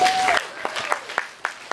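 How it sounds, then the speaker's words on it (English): At a performance by an African drummer collective, an audience gives a few scattered, sparse claps, with a brief tonal sound at the start. "applaud him as he makes his way to the place"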